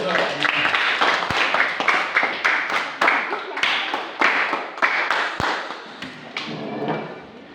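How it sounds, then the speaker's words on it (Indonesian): Schoolchildren in a classroom clap in a brisk, uneven burst of applause, close and loud, slowly thinning out toward the end. "Tepuk tangan dulu."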